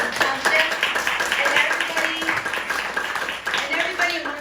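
Audience applause at a Washington Township political gathering in Morris County, steady crowd clapping throughout with voices and cheering mixed in.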